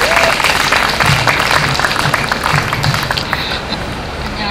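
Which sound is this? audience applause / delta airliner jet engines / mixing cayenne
audience applause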